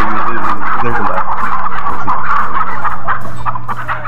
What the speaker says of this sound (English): Chickens just pouring out.